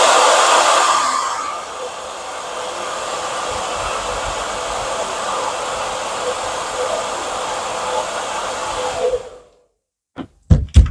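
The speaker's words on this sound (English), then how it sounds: "I use a hairdryer for a quick dry." A hair dryer blows a steady close whooshing roar while drying a watercolour painting, running continuously for about nine seconds before switching off, followed by a few sharp handling knocks.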